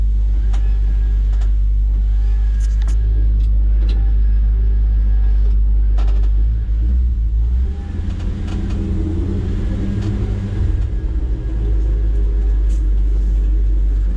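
An old truck's engine running steadily during a drive, a loud low rumble with some revving partway through and scattered clicks and rattles over the top.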